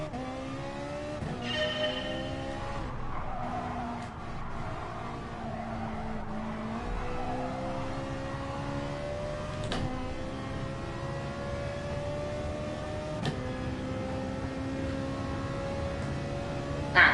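Ferrari 458 GT3 race car engine in a racing video game at Autopolis, a loud continuous high-pitched wail rising repeatedly toward redline through gear changes, with brief tire squeals, sustained and up close throughout.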